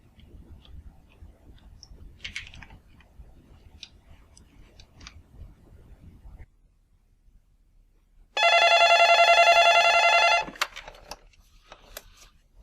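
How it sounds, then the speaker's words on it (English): A telephone number is dialed, with faint scattered clicks followed by a loud steady electronic tone lasting about two seconds, then quiet ticks. "Please hold while I dial 510-323-4545."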